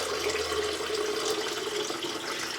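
Water pours steadily into Brazil nut pieces to make nut milk, a continuous close rushing splash with no talk.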